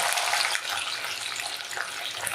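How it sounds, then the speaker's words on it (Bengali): Finely chopped beans hit hot ghee and oil, setting off a loud, dense crackling sizzle that holds steady with a brief dip midway. "ঘি তেল কিন্তু গরম হয়ে গেছে। এবার প্রথমে আমি দিয়ে দেবো বিনস কুচি।"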